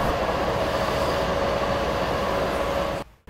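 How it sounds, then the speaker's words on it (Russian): A Czech electric commuter train bound for Blansko gives a loud, steady, close rumble throughout, then cuts off abruptly near the end. "На электричку до Бланска."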